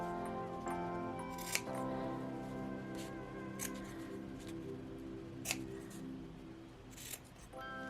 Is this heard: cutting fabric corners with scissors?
yes